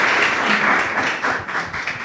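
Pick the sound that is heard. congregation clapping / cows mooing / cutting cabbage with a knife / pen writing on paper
congregation clapping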